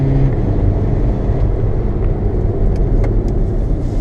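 A tuned car accelerates hard from about 40 km/h, heard from inside. A loud, steady engine and road roar runs throughout, with no speech.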